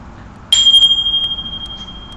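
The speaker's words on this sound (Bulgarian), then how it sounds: "И сега ще изчистим интернет пространството с тези ангелски камбани, тези ангелски тромпети." A bright metal bell is struck once, ringing with a clear high tone that sustains and slowly decays, played indoors in a home yoga space to cleanse it; no speech over it.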